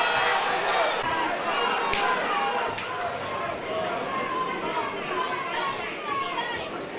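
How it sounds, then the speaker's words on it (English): A loud crowd at an MMA fight in Akron, Ohio, keeps up a continuous roar of cheering and chatter, with a commentator talking over the noise. "Jackson's clearly got a loud crowd here in the heart of Akron"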